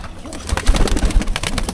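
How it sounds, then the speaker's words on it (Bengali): Male pigeons in a loft coo close by, with low throaty repeated coos and some wing and shuffling noise, fairly loud and with no talking. "আমি এক নজর আমার কবুতরগুলো একটু দেখাবো আগে নরগুলা দেখাই"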